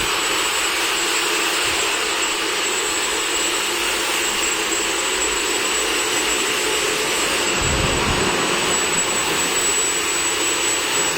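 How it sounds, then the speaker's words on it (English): A tractor-mounted drilling machine runs at a production unit with a loud, continuous droning roar and a thin high whine above it. The sound holds steady throughout, with a brief low thump partway through and no talking. "So this is the tractor mounted drilling machine."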